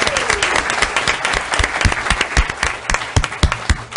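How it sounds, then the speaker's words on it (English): An audience at a city commission meeting applauds, a burst of brisk, fairly loud clapping from a modest crowd, steady for a few seconds. "So let's give them a round of applause."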